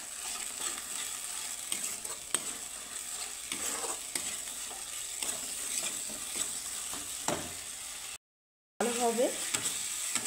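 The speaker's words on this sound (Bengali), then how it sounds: "তো মশলাটাকে আমি একটু কষিয়ে নেব।" Spice masala thickened with gram flour being sautéed in a pan for a dhaba-style okra dish, a steady sizzle broken by scraping stirs throughout, with a brief dropout near the end.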